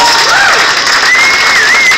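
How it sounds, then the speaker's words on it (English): A crowd at a Bloomsday reading applauds loudly and continuously, a dense wash of clapping with a few whoops and whistles rising above it. "Big, big warm applause for this guy, Aedin."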